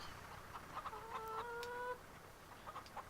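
Hens cluck softly in a henhouse, with short clucks and one longer drawn-out call over a faint, steady background noise.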